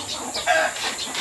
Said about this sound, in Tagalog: Ngingitlog na yung manok ko, ah.